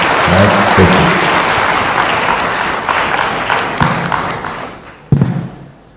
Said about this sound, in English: A round of applause, ladies and gentlemen, to these wonderful people once again